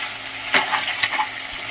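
Chicken curry fries in a pan with a soft crackling sizzle and a few brief stirring scrapes, close and short.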